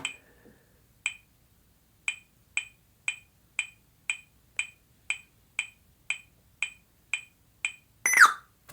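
A string of short, evenly spaced beeps from an HP laptop as the right Shift key is held down, about a dozen clean electronic tones in a steady rhythm, ending with a brief louder chirp.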